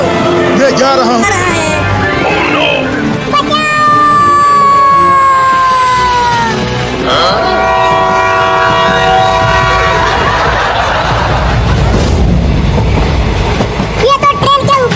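A train rolls along loudly with its horn sounding in long sustained blasts, mixed with other layered effects and rumble throughout.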